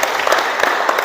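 Students in a physical education class clap together, a short, brisk burst of many hands applauding at close range.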